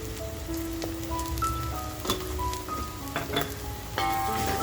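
Homemade masala frying in a pan for a spicy mutton curry, giving a steady soft sizzle and crackle with scattered brief pops and faint tonal clinks throughout.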